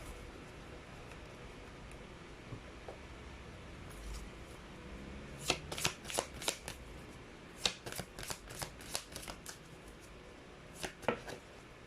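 Chinese fortune cards being shuffled by hand during a card reading, with bursts of crisp riffling flicks clustered in the middle and again near the end after a quiet start.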